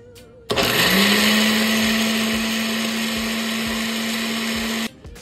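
A blender whirs loudly for several seconds, blending habanero salsa with toasted peanuts, starting abruptly with a steady high motor whine and stopping sharply.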